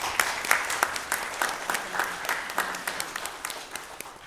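An audience at a Gathering of Light event applauds the Reverend after a talk on humanity and Lord Mahaveera, with dense, continuous clapping from many hands that rises and then gradually thins out.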